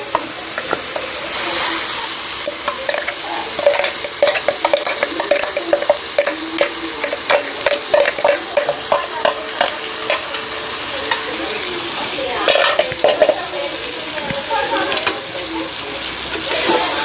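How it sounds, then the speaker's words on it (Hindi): Minced chicken keema frying in a pan for a pointed gourd chicken curry, with a steady close hiss of sizzling oil broken by rapid, rhythmic scrapes and clicks of a spoon stirring the meat, with no talking. "अब इसमें चिकन के कीमा को भी डाल देते हैं।"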